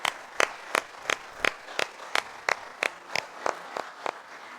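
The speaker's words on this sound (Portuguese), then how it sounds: "eu vou pedir para vocês uma salva de palmas para essa" Audience at a lecture on Spiritism applauds in slow, evenly spaced claps, about a dozen sharp hand claps in steady rhythm, fairly faint and heard on their own.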